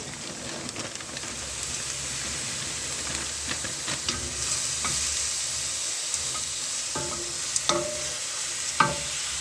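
Ground meat sizzles steadily in a hot pan, a constant frying hiss with scattered scraping knocks of a utensil stirring it, louder clacks near the end.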